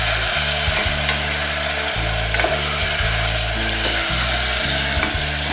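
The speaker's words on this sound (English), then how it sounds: "I'm just frying the potatoes and taking them out until I add my paste again." Potatoes frying in a pan for a spicy potato curry, a steady close sizzle with stirring and scraping layered over a low, continuous hum.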